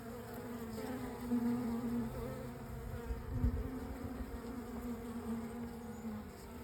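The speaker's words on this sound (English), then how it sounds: "There's still bees inside of it." A loud, steady swarm of honey bees buzzing up close, a continuous droning hum that swells and dips slightly.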